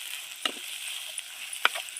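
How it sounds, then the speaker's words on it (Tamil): Onions sautéing in a pan for drumstick sambar, a soft continuous sizzle with a couple of sharp scraping clicks from stirring, close and fairly quiet. "வெங்காயத்தை வதக்கிடலாம் நல்லா."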